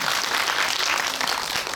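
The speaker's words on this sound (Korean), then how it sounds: "송 배우에게 뜨거운 박수 부탁드립니다." Enthusiastic applause from a cinema audience at a Hedwig movie talk event in a Seoul theater, dense continuous clapping that stays loud and even throughout the brief moment.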